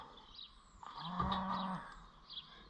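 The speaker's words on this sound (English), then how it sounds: "Yes, cow." Cow mooing on a farm, a single low moo of moderate length heard at a distance in a quiet outdoor setting, with faint birdsong around it.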